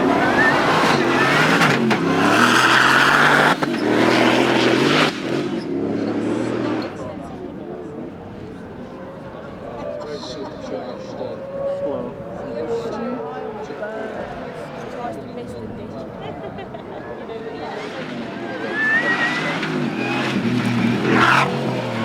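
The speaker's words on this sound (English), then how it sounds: "The acceleration of this car is awesome." A car accelerates hard at the Goodwood Festival of Speed, its engine note rising loudly and close, easing off in the middle before surging again, with people talking over it.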